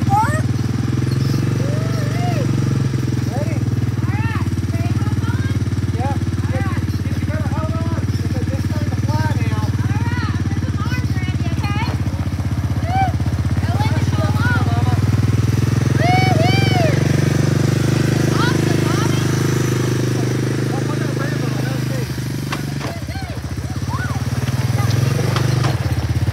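A 1985 Honda ATC 250SX three-wheeler engine rumbles steadily at low revs for the whole stretch, close and loud outdoors. People talk and call out over the engine noise.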